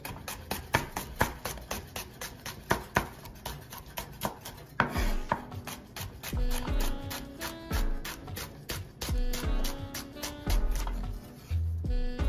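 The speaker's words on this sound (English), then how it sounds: "we can kind of rough chop these, like so" Knife rough-chopping fresh herbs and shallots on a cutting board: a quick run of sharp, closely spaced taps, then a heavier, more uneven stretch of chops, near and clear with no talking.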